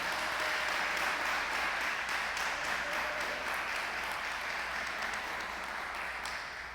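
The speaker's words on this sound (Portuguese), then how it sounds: "Louve ao Senhor com a salva de palmas em nome de Jesus" A church congregation claps in sustained applause, a dense crackle of many hands that holds steady and tapers slightly toward the end.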